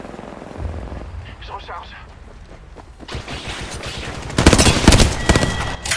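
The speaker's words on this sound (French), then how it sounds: "L'ennemi me tire dessus." Enemy gunfire in a round of Apex Legends, bursts of rapid automatic shots and impacts building to a loud dense fusillade near the end, with a player speaking briefly over the game sounds.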